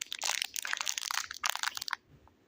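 A small plastic packet is crumpled close up in two quick bursts of crisp crinkling and crackling, then falls silent.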